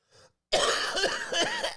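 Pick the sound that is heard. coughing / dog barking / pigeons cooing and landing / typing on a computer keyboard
coughing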